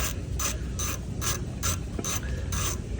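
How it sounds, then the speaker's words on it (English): Ratchet working on a stubborn starter bolt of a 27 HP Kawasaki engine, giving rapid repeated ratcheting clicks in steady bursts about every third of a second, close up, with no talking. "take this or loosen this one right here"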